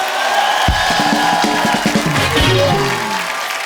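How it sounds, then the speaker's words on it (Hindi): A large studio audience cheers and shouts loudly for a comedy talk show guest, with whoops and yells rising over a steady roar for several seconds. "एक बार गुरु रंधावा के लिए जोरदार तालियां"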